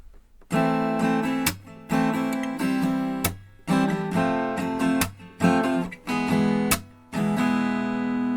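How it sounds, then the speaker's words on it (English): Acoustic guitar strummed in a steady rhythmic pattern, playing a song, with sharp percussive slaps cutting in regularly between the chord strokes, close and clear. "we have this clap built into the strumming"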